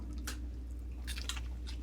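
Crisp, close-up crunching and chewing of a raw yellow pepper being bitten into in a kitchen, a few sharp bursts with no talk.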